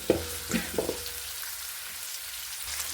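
Spinach rice ingredients frying golden in a pan, a soft, steady sizzle with a few light knocks of stirring near the start, then a quieter crackle that carries on alone.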